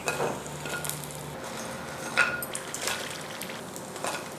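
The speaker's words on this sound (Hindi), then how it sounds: "ये देखें फ्राई हो गए, इनको निकाल लेते हैं।" Small one-bite chicken samosas sizzle quietly in hot oil, a soft continuous frying crackle with occasional light stirring or utensil clinks, heard close but faint.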